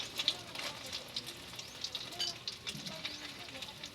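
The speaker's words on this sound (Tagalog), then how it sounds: "Pagluluto ng tikoy. Kailangan na may lang ang apoy para hindi siya masunog." Tikoy rice cake cooking in a pan over a low flame, giving a faint, steady sizzle with soft crackles throughout.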